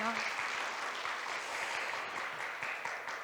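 Applause from the audience at a statistics-agency workshop, a soft, even wash of clapping that stays faint and distant throughout.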